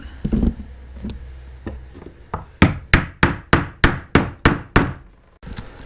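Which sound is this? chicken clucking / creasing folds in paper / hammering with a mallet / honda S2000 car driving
hammering with a mallet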